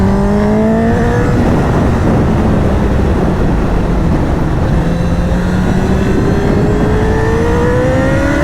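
A 2011 Honda CBR1000RR Fireblade sportbike, Hutchy edition, screams loud and close under hard acceleration, its high engine note climbing steadily through the gears with a brief dip at a shift, continuous wind roar beneath.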